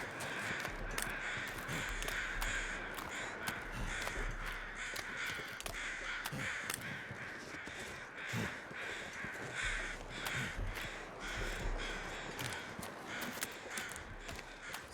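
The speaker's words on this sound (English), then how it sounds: "those are some loud crows" Crows in The Long Dark keep up a loud, insistent cawing, many harsh calls overlapping near and far across a constant wind-like backdrop, with no voices.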